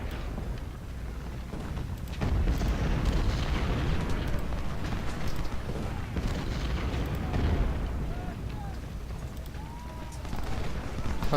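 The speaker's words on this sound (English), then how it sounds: "Embodin, shoot Grover." Battle sounds from Ultimate General: Civil War, a dense rumbling roar of massed musket fire and artillery booms rolling continuously, with a voice talking over it.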